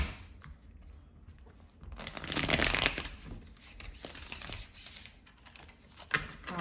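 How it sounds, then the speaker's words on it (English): A deck of tarot cards being shuffled close by, heard as soft crisp riffling and papery flicking bursts that swell in the middle, fairly quiet and with no speech. "let's just get one good shuffle and get right into it"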